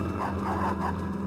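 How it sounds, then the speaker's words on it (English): A pack of wild dogs in the video game Fragile Dreams bark in quick repeated yips over a constant low game ambience, fairly faint and compressed. "This is a wild dog, or in this case a pack of wild dogs."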